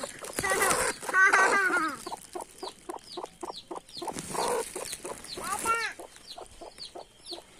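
Hen on a farm giving a run of short, rhythmic clucks at close range, with brief voices and chick peeps mixed in at the start and around the middle.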